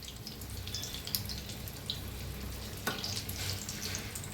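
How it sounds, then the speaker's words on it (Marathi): Capsicum pakoras deep-frying in hot oil, a steady close crackling sizzle with scattered sharp pops throughout, no voices. "तर छान दोन्ही साईडनी तळून घेऊया"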